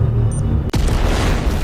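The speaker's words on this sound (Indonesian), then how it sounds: "Bom pun akhirnya meledak" A bomb explosion goes off suddenly with one loud boom that cuts into a continuous heavy rumbling roar, which carries on afterward without any voices.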